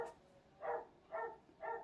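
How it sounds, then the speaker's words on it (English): A dog gives three faint, evenly spaced barks in quick succession, soft and somewhat distant in a quiet room. "He's barking."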